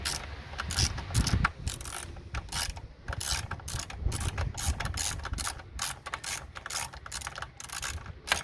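A 13mm wrench ratchets on bolts at an awkward angle while a thermostat is replaced on a Holden Commodore with the 3.8 Ecotec V6. The clicks come close and quick in repeated bursts, with brief pauses between them and no talk.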